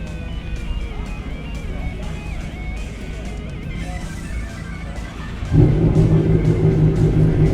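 A Nissan Skyline's exhaust at a round of the 2025 Victorian Hillclimb Championship: a low, steady rumble that jumps to a louder, tonal engine note about two-thirds of the way through and holds there.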